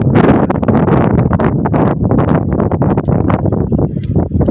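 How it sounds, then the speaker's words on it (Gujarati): Strong wind buffets the microphone in an open peanut field, a loud continuous roar with gusty swells and no talk. "અવાજ થોડોક ધીમો ધીમો આવશે, પવનનો અવાજ વધારે આવશે"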